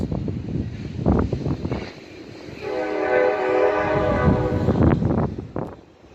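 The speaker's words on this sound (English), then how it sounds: "these darn trains run like clockwork" A train rumbles past nearby, its horn sounding in a long sustained blast over the steady clatter of the cars.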